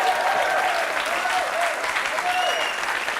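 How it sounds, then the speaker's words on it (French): Loud studio audience applause on a French talk show, dense and continuous, with faint whistles or cheers rising over the clapping. "C'est un beau défi, on peut l'applaudir."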